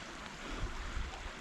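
Running water of a creek crossing on a snowy overnight trail, a steady broadband wash of flowing stream heard close and fairly quiet, unbroken for a second and a half with no voices.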